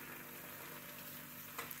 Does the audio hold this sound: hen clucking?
no